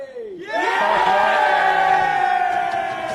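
Australian rules football crowd at a Hills Football League match between Mt Lofty and Blackwood roaring after a missed kick at goal; a loud, sustained swell of cheering and shouting rises quickly and holds.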